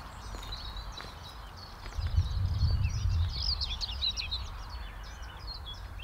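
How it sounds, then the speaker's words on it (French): Several birds chirp and trill in the distance, a busy layered chorus over a low rumbling background, with a brief heavier rustle midway. "J'entends juste derrière des chants que j'ai pas encore entendus"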